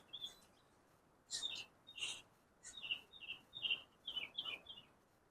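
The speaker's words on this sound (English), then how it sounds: "I come out and I listen to the birds. You guys can hear them, I'm sure." Small birds chirp and trill in short bursts, some repeated in quick runs, fairly faint against a quiet outdoor background.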